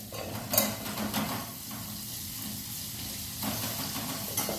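Oro, a mashed vegetable dish with garlic chutney, gets tempered in hot oil, giving a soft, low sizzle with light stirring scrapes and a couple of utensil clinks, faint and close.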